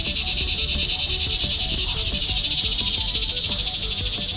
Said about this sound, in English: Annoying cicada, stop.